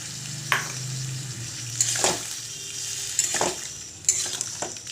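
Soaked asafoetida goes into potatoes frying in a kadai, with a steady sizzle broken by several sharp scraping stirs of a utensil against the pan, close and fairly loud, no voices.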